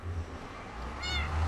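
A cat in Minecraft gives a single clear meow, moderately loud and upfront, over a low background hum.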